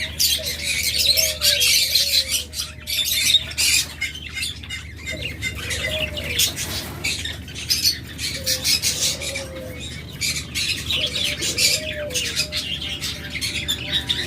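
Lovebirds chirping and squawking repeatedly in a cage, with rustling and fluttering in the background and a constant low hum.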